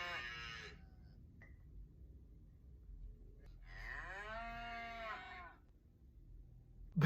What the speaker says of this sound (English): Why are you listening to cows?